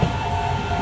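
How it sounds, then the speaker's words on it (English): A morning commuter train pulls into a station in Japan, a loud, close, continuous rumble of wheels on rails with a steady mechanical hum. "here comes my morning train pulling in so I can get on for a short 4-minute ride"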